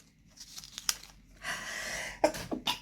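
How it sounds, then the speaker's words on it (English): A single close, sharp sneeze bursts out at a desk while planner inserts and printer stickers are handled, with soft paper rustling and small crinkles around it and no talking. "I sneezed."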